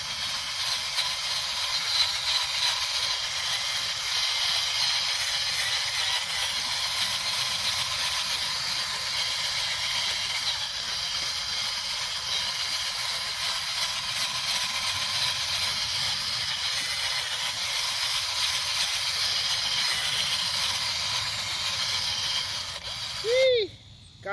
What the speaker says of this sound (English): And of course, I do have my handy dandy